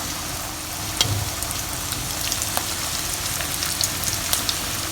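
Chicken pieces for Taiwanese popcorn chicken bubble and crackle in hot oil, a loud, dense, continuous frying hiss with scattered sharp pops.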